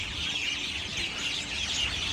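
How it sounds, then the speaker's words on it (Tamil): Sparrows chirp outdoors in Abu Dhabi, a busy, continuous chorus of high twitters over faint low background noise, with no voices. "எவ்வளோ அற்புதமான குருவி சத்தம்"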